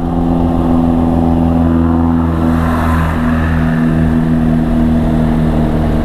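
A motorbike engine holds a steady, loud drone under throttle through a hilly valley road toward Cisewu, continuous and close with no talk over it.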